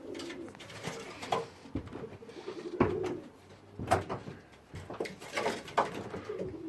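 Soft, repeated cooing of pigeons in a cleaned loft section holding frill stencil and toy stencil cocks, overlapping low calls close by with a few light knocks and shuffles.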